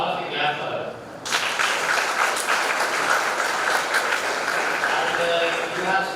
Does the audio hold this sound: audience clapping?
yes